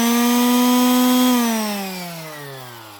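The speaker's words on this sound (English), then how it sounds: "oh yeah, solar powered sander" An electric sander runs on solar power in an off-grid workshop, giving a loud, close motor whine that holds steady and then winds down in pitch as it slows.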